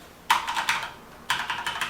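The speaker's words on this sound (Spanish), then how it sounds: "No es un teclado que haga mucho ruido" Someone types on a Corsair K70 RGB keyboard with Cherry MX Red switches. Two short, quiet bursts of rapid keystrokes come close up, with a pause between them.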